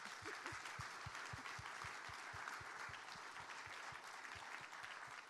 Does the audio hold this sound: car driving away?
no